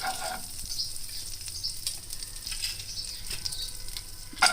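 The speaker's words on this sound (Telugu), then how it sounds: "జీలకర్ర, ఆవాలు, చిల్లీ ఫ్లేక్స్ ఇవి కొంచెము వేగిన తర్వాత" Cumin, mustard seeds and chili flakes fry in melted butter as a tempering for coriander rice, giving a soft steady sizzle broken by sharp little pops and crackles, close and without talk.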